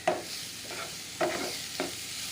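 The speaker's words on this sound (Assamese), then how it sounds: "সিজাই থোৱা চলেখিনি ভালদৰে ইয়াতে দি" Boiled chickpeas are stirred into a pan for chole, giving several soft scraping, sloshing strokes about half a second to a second apart over a low sizzle.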